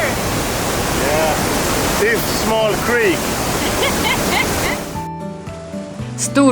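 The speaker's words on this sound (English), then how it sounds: "Storforsen in the Peter River is Europe's largest unregulated rapid, located in Älvsbyn" Storforsen, a large unregulated rapid on the Pite River in Älvsbyn, gives a loud, steady roar of rushing water, with brief bird-like chirps over it. The roar cuts off abruptly near the end into a quieter, tonal scene.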